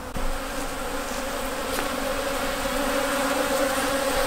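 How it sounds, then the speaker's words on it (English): Steady, dense buzzing of many honeybees around a hive, a continuous hum with no talking, close and fairly loud throughout. "It's just worth seeing how busy these bees are."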